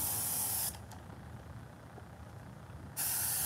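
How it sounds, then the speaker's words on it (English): Airbrush spraying resin colour for chameleon popsicle art, a steady loud hiss of spray that starts and stops abruptly, dropping to quieter hiss midway, with no talking. "or you can airbrush it like I'm doing right now."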